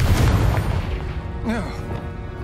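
Confringo explosive spell cast in Hogwarts Legacy, a heavy booming blast at the start that rumbles and fades over a couple of seconds, with a voice briefly heard midway.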